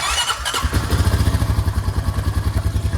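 A Honda Foreman 500 ATV engine catches and settles into a loud, close idle with a fast, steady pulsing thump and some mechanical clatter.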